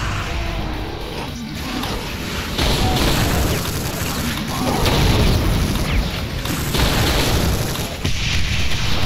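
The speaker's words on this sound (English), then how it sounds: "that's a huge explosion, man." A huge explosion in the first-person shooter Brutal Doom, a dense, loud roaring blast with rumbling low end that surges and sustains for several seconds amid chaotic game noise, no talking.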